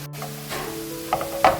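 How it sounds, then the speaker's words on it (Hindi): Onions browning in hot oil with whole spices for a spicy beef dish, a steady close sizzle with a few brief stirring scrapes and clatters near the end. "अब देखिए हमारे प्याज जो है वो ब्राउन होना शुरू हो गया है, तो इस पॉइंट पे थोड़ा सा ये फ्राई हो जाएगा"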